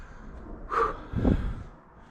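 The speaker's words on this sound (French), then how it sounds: "C'est vrai que je suis un peu essoufflé" Two heavy, close breaths, a sharp gasping inhale followed by a deeper exhale, from someone out of breath while exploring an abandoned village.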